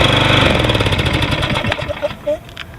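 A Toro Recycler lawn mower, model 20333, with a Briggs & Stratton 7.0 gross torque engine, runs loud and close on a cold start, its rapid chugging beat slowing and sputtering as it is switched off.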